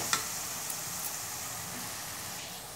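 Onion and chillies fry in a pan with a soft, steady sizzling hiss and occasional faint clicks of a utensil, quiet and close.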